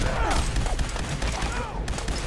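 Dense, continuous gunfire in Fallout 4, loud and close as rapid shots pile into a steady fusillade, with scattered voice sounds mixed under the shooting.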